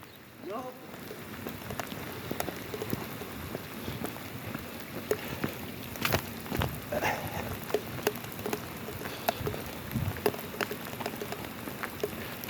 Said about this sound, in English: No going between the raindrops today.